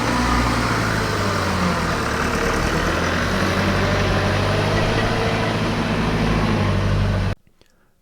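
A Fuso Canter AAV4x4 GX 4x4 truck engine drones loudly and steadily during an off-road hill start, a close, low, constant rumble that cuts off abruptly near the end, leaving near silence.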